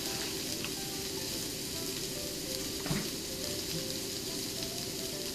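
A cabbage pancake mixed with grated daikon and potato starch frying in a pan on low heat, a steady close sizzle with soft crackling throughout, no voices.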